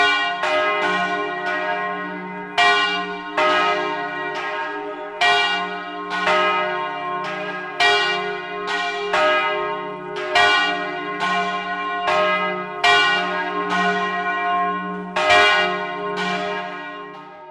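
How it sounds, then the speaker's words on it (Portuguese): Church bells pealing in a rapid, rhythmic ringing pattern over São João del-Rei, loud and sustained, with repeated bright strikes overlapping a steady low hum. "dominam as alturas para tirar o som dos sinos e fazer reverberar sobre a cidade o recado da igreja"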